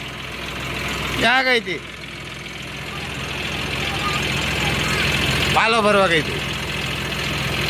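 A John Deere 5310 CRD tractor engine idles with a steady low rumble running throughout, close and fairly loud, while two people briefly talk over it.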